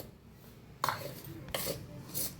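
A spatula scraping and stirring a rice flour mixture in hot ghee for rice laddoos, giving a few close metallic scrapes against the pan over a low background.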